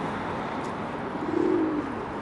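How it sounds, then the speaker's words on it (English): A pigeon gives a soft, low coo lasting about half a second against a steady outdoor background hiss, fairly close and alone. "Where's the Gordon pigeon"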